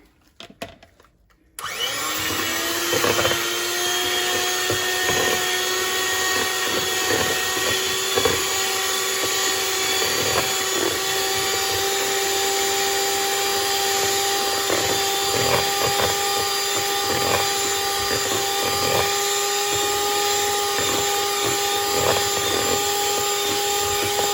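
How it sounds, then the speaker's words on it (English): An electric mixer whips five eggs for a pineapple coconut cake, starting after a brief clatter and then holding a steady, loud high-pitched whir for over twenty seconds. "we'll just do a quick mix on that with the mixer"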